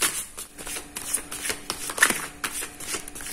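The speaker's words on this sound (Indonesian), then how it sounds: "saya bakal kocok kartunya" Tarot cards being shuffled by hand in a quick run of papery riffles and flicks, close and fairly loud, with no talking.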